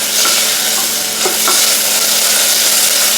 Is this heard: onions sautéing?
yes